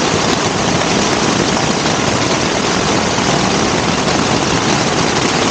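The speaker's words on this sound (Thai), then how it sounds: "ฟังเสียงฝนครับ" Heavy rain pounds a camping tent at a seaside campsite at Ao To Li, Phang Nga, Thailand, making a loud, unbroken roar that stays steady throughout with no voices.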